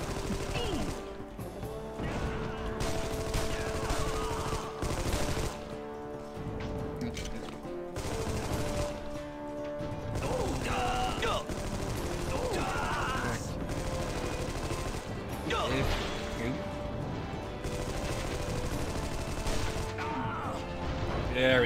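Sustained video game gunfire in Armed & Dangerous, dense rattling bursts and crashes rolling on and off, with a voice talking over parts of it.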